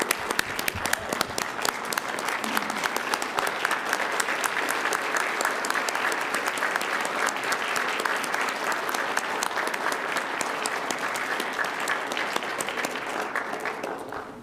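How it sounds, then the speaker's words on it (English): A city council meeting crowd gives a standing ovation, loud sustained applause from many hands that stays strong and steady for about fourteen seconds before tapering at the very end. "I think it deserves a standing applause."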